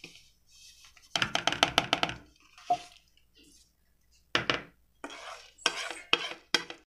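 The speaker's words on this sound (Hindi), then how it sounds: "सारी चीज़ें डाल के मिक्स करते हैं।" Minced beef kebab mixture with gram flour and butter being mixed in a bowl, bursts of brisk scraping and clatter separated by short pauses, close and sparse.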